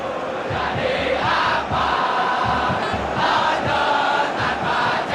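Stadium crowd noise in a PES 2021 football match, with a loud, continuous roar of massed voices and rhythmic chanting swells pulsing throughout.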